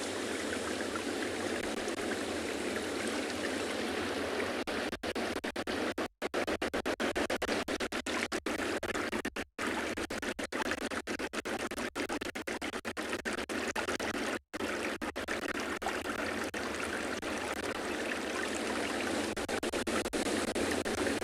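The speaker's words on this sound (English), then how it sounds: "Obviously the sound of the ocean and the waves, but there's this soft trickle that's happening as the water recedes" Ocean waves washing on a South African beach during an afternoon safari, a steady broadband rush with the soft trickle of receding water running continuously throughout.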